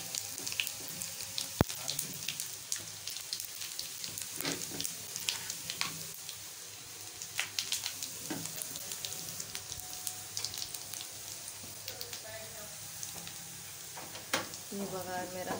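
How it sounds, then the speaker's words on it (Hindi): Garlic, curry leaves and cumin sizzling in hot oil as a tempering for curry, a soft steady crackle with scattered pops and stirring clinks, faint and close, with someone talking over it. "इसमें मैंने लहसुन डालना है, और इसमें मैंने कढ़ी पत्ता डालना है, और मैंने जीरा डाला है"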